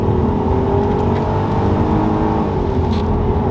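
A 2006 Audi A3 3.2 V6 Quattro S line with automatic gearbox accelerating, a loud steady engine drone with rising pitch heard close from inside the car.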